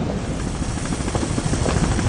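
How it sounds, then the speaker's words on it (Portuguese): Helicopter flying over a city, a loud, steady rotor chop with dense rapid pulsing that fills the whole stretch without a break. "Não para de passar helicóptero."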